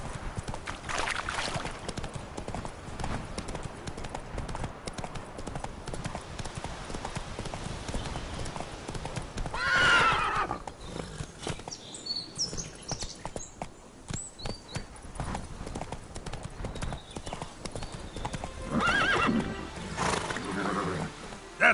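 Roach, a horse in The Witcher 3, galloping with a fast, steady clip-clop of hooves that runs the whole time, with a brief whinny-like swell midway and faint game ambience underneath.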